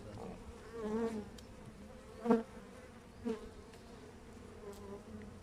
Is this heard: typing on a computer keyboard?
no